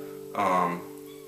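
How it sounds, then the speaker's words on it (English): A single short cat meow, fairly close, rising and falling over about half a second, over a quiet sustained tone. "you hear that? It's my cat"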